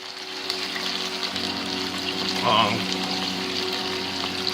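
Peppers and chorizo sausage frying in a pan give a steady, close sizzle, with a brief louder burst of spitting grease midway.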